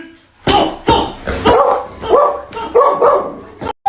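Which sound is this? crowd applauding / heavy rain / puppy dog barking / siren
puppy dog barking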